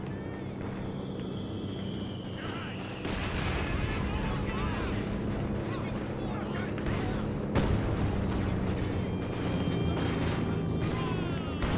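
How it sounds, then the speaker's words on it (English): Battle sounds from Company of Heroes 2 in a 3v3 city match, with a grenade blast amid continuous gunfire and artillery rumble, all dense and loud under a caster's talk. "Alright, nice grenade."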